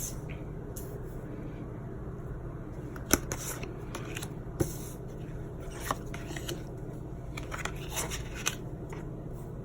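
Tarot cards are shuffled close by in a quiet room, a soft continuous riffling and sliding broken by a few sharper snaps, with no talking.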